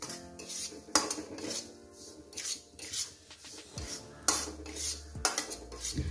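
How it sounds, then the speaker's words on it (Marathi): Semolina is stirred and roasted in ghee in a pan, heard as repeated scraping and rasping strokes of a spoon against the metal, with sharp knocks and clinks at irregular intervals. "खमंग असा भाजून घ्यायचा आहे रवा आपल्याला."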